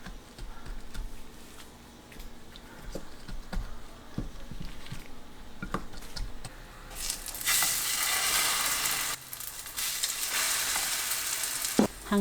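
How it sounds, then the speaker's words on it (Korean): King oyster mushrooms coated in egg fry in cooking oil over medium-low heat, giving a steady close sizzle with light crackles that swells into a brighter, louder hiss partway through. "황제버섯에 계란을 입히고 중약불로 구워주세요."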